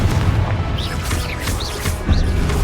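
A Confringo spell explosion in the Hogwarts Legacy video game: heavy, booming blasts rumble over dense battle noise, with swooshing magical effects and a strong impact near the end.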